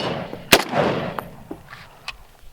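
A single sharp report from a Springfield Armory SOCOM 16 .308 rifle with a fiberglass stock and muzzle brake, fired outdoors, followed by a decaying echo and a few faint small knocks.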